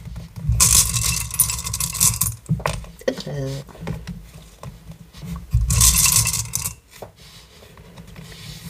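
Witch runes being drawn from a bag and turned over, with rattling, clinking and scraping of small pieces in two loud bursts around brief shuffling handling noises.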